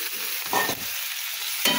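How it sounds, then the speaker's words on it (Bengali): Boal fish pieces being stirred into a simmering spice masala in a pan, giving a steady close sizzle with two brief louder scrapes of stirring and no talk. "মাছগুলো একটু ভালোভাবে কষিয়ে নেব।"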